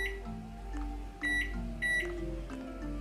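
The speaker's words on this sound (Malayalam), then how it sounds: "അതിനുശേഷം ടെമ്പറേച്ചർ വെക്കേണ്ടത് മൈക്രോവേവ് എന്ന ഓപ്ഷനിൽ ഹൈ പവർ" A microwave oven running on high power (P100) gives a low steady hum with a few short tonal beeps over it, quiet and close, with no talking.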